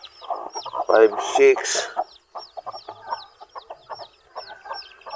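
Rhode Island Red chickens cluck repeatedly in a busy farmyard, with short bursty calls and a louder squawk, while a voice counts nearby.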